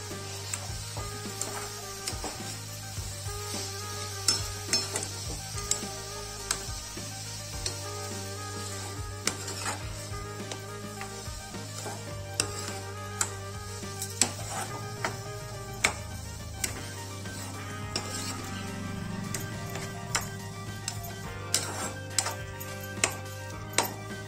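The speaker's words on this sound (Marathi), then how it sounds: "1 वाटी साखर घालू। साखर चांगली मुरेपर्यंत परतून घेऊ।" Grated carrot halwa being stirred with sugar in a pan, with soft scraping and irregular spoon taps against the pan over a steady background hum.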